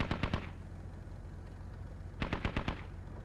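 Machine gun fire from a BTR's mounted gun in the Squad video game, two loud rapid bursts of several shots each, separated by a stretch of low rumbling battlefield ambience.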